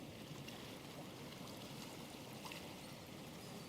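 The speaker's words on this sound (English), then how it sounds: "that water gently lapping on the shore in the distance" Soft, continuous wash of water gently lapping on a beach shore, with a gentle trickling texture, steady and unbroken, at low volume with no voices.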